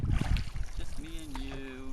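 Homebuilt wa'apa trimaran sailing canoe moving on open water off Yap Island, with wind buffeting the microphone and water sloshing against the hull while someone talks over it.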